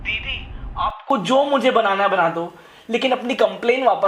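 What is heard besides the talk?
No everyday noise stands out behind the speech.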